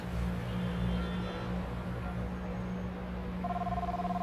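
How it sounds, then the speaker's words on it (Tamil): Telephone ringback tone on an outgoing call in a Tamil-dubbed adventure film, a steady electronic ring pattern under a low background hum, with a brighter tone pulsing in near the end. "ரிங் அடிக்குது."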